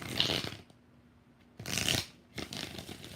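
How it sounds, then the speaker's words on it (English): Tarot cards are riffled and shuffled up close in three crisp bursts separated by brief quiet pauses. "2 more shuffles for Jenna."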